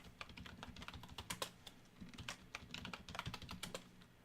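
Quick, soft keystrokes on a computer keyboard, an irregular run of light taps and clicks while typing a name during a Debian 8 install, quiet and close with no talk.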